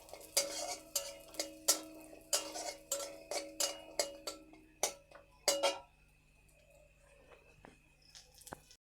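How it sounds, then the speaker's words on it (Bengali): Cashews and almonds are stirred as they fry in a pan, giving a rapid run of loud scraping and clattering spoon strokes over a faint sizzle, then quieter scattered taps toward the end. "কাজু আর বাদাম দিয়ে দিচ্ছি, এটা ভালো করে ভেজে নেব।"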